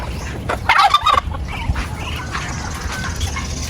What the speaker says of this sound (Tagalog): Meron din akong pabo.